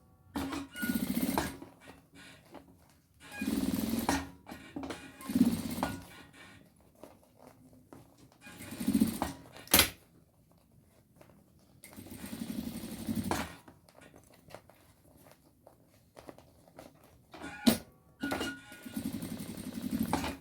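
Sewing machine stitching a cat-shaped piggy bag, with several short bursts of rapid mechanical stitching separated by pauses, fairly close and moderately loud, with no talk.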